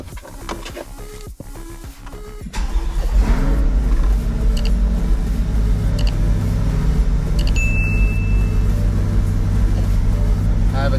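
A Chevrolet Corvette C8 with about 800 miles and a fault is started after a few clicks, then its engine fires and settles into a loud, close, steady run with a brief tonal chime partway through.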